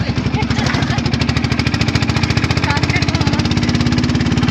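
Steady rhythmic chugging of a launch boat's engine on a river trip, loud and close, with fast regular pulses throughout and faint voices underneath.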